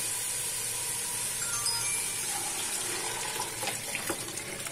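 Water is poured into a cooking pot of softened vegetables and rice for chicken vegetable rice, giving a steady rushing, splashing flow that holds close and fairly loud for the whole stretch.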